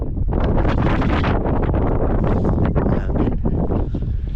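Strong wind on Mount Taranaki buffets the microphone in continuous loud gusts, roaring and rumbling throughout with no other clear sounds.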